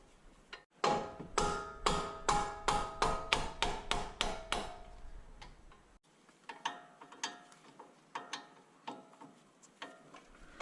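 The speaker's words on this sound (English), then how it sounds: "I'm going to have to kind of hammer these nuts loose." Repeated metallic hammer blows on a wrench to loosen nuts during a truck front brake job, a fast run of about a dozen strikes followed by slower, lighter taps, close and ringing.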